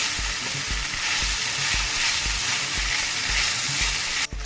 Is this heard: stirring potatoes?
yes